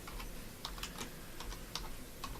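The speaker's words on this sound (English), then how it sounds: "just typing up everything myself here" Typing on a computer keyboard during a live stream, with a quick, irregular run of light key clicks heard close up over a steady low hum.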